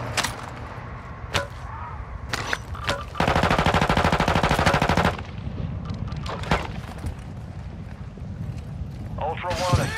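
Sustained automatic machine gun burst in Call of Duty Modern Warfare 2, loud and rapid for about two seconds, framed by scattered single gunshots and game sounds under radio-style talk.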